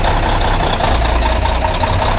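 A diesel truck engine idling steadily up close with a deep, continuous rumble, shifted into gear to engage a converter-driven PTO for the hydraulics.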